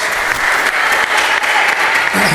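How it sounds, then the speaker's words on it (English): Crowd applause at a singles final of a racquetball pro-am tournament, steady dense clapping sustained throughout without a break, loud and close. "I think everybody should stand up and give this lady a round of applause."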